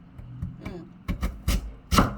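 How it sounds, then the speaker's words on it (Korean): A knife scores a mackerel on a cutting board in three to four distinct cuts, each a short close thud and scrape, getting louder toward the end with faint background sounds between them. "딱 3번을 칼집을 넣으니까 이렇게 됐네요"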